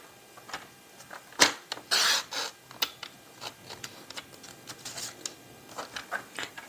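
Cardstock being cut along a score line during papercraft work, heard as a close series of soft, irregular scrapes and snips, with one longer rasping stroke near the middle.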